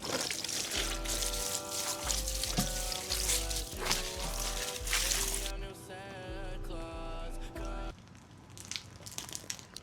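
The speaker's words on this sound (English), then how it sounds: "Watering can." Water pours steadily from a watering can, trickling and splashing for several seconds, with background music playing underneath.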